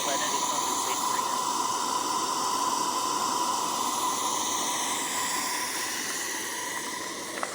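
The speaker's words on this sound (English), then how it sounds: "when you're starting out cold or starting out from a station stop, you want to make sure you open those up so that you let any condensate drain" Steam hisses steadily from the cylinder drain cocks of a steam locomotive, opened to let condensate drain on a cold start or when leaving a station, a loud continuous broadband rush with a faint whistle-like tone under it.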